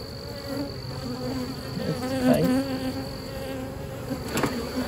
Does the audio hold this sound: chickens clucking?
no